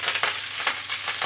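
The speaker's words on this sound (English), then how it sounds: "Add a small splash of cooking oil to a frying pan, and then over a medium heat you want to cook the sea beet" Sea beet frying in a splash of cooking oil in a pan over medium heat, giving a steady close sizzle with bright hissing bursts that rise and fall as the greens are stirred.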